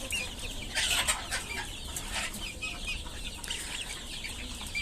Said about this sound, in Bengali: আর এই যে সামনে এটা হচ্ছে গিয়ে মোরগটা।